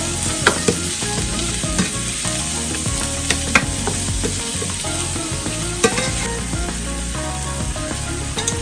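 Mushrooms cook down in hot oil in a pan over low heat, giving a steady, close sizzle throughout, with scattered clicks and scrapes of stirring breaking through.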